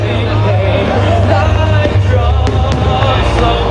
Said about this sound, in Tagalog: Pagkatapos ng misa, isang fireworks display ang nasaksihan ng mga dumalo.